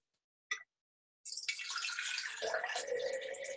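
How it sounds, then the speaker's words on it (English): Cold tap water pouring into two jars for a pine cone experiment. A short knock comes first, then a steady splashing flow that deepens in pitch as the jar begins to fill, heard close with no voices. "So I'm going to take two jars and I'm going to stick some water in each."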